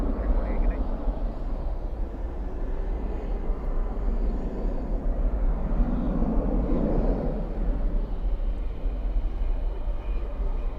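An American Airlines Boeing 737 in birthday cake livery arrives at night at Dallas/Fort Worth airport, a broad, steady jet roar that swells slightly midway, with voices talking over it.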